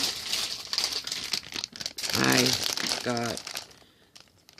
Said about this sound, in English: sorry about the crinkling noise